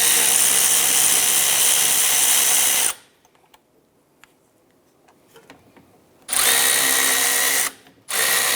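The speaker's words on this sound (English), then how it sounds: "Using a 14mm socket and ratchet, loosen and remove the caliper bolts." A powered tool whirs loudly and steadily while the caliper bolts come off the rear brakes of a 2008-2013 Nissan Rogue. It stops for a few seconds of quiet clicks and clatter, then returns in two short bursts.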